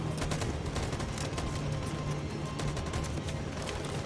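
Dense, sustained burst of gunfire from the video game Detroit: Become Human, loud and continuous with rapid overlapping shots throughout, no talking over it.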